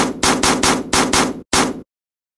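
Rapid bursts of gunfire from an Army Men video game, six loud sharp shots in a fast uneven rhythm, close and dry, ending abruptly in silence.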